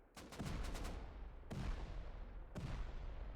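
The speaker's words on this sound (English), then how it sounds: "Listen to that C4." C4 explosions in the video game Rust, three heavy booming blasts about a second apart, the first preceded by a quick rattling burst, each followed by a rumbling decay, at a distance and fairly quiet.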